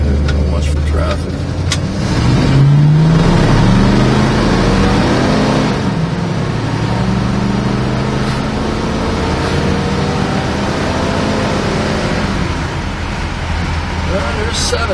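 A 1957 Oldsmobile 88 engine pulls steadily while the car drives on the road, its loud, close drone rising in pitch as it accelerates, with a voice talking over it.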